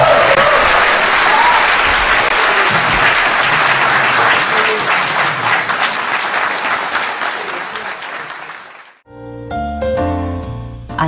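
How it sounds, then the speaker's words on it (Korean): A studio audience on a Korean talk show breaks into loud, sustained clapping that gradually thins out and stops abruptly, followed by a shift to different, tonal sound. "박수 좀 쳐줘."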